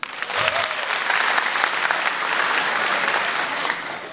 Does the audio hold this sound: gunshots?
no